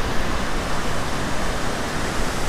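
Cauldron Snout, a waterfall in the North Pennines, roars as a dense, steady broadband rush of falling water, loud and close with no breaks or voices.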